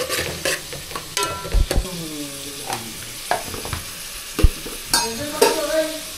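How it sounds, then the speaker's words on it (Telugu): Onions fry in a pot for mutton curry, cooking toward brown, with a close, busy sizzle and repeated clattering stirs and scrapes, including a few squeaky scrapes. "కొంచెం ఫ్రై అయ్యేదాకా బ్రౌన్ అయ్యేదాకా ఆనియన్స్ వేసుకోవాలి"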